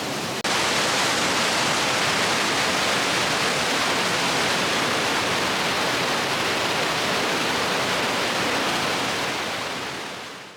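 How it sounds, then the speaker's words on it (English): A large Colorado waterfall roars steadily and close by, a dense, constant wash of falling water with no voices over it, holding level for about ten seconds before tapering off. "this is the biggest waterfall I've seen in Colorado yet"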